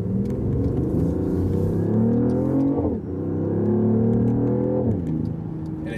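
A 2014 BMW i8 accelerating hard from inside the cabin, a loud steady engine drone rising in pitch, dropping sharply at two upshifts and climbing again, with no talking.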